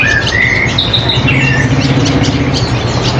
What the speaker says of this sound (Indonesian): Seperti ini ya burung Yohina.